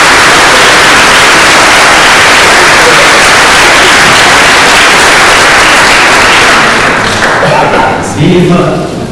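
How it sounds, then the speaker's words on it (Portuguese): A packed community gathering bursts into loud, dense applause for a group, a continuous wash of clapping that thins out near the end as a voice begins. "Eu gostava de pedir uma salva de palmas para este grupo"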